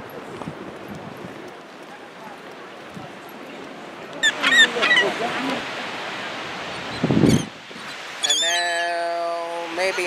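Seagulls calling on a busy seaside boardwalk on a warm, sunny day, with a few sharp squawking cries and a longer series of harsh calls standing out over crowd and wind noise.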